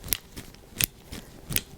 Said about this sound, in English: Did you guess it was scissors?